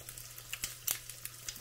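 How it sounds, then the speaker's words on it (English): An egg sizzles and crackles in a frying pan, a dense close sizzle broken by sharp pops and spits, with no voices. "Okay, not the egg sizzling."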